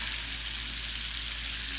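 Steak fries in a pan with a loud, continuous sizzle and crackle. The hiss stays dense and steady throughout, and no one talks over it.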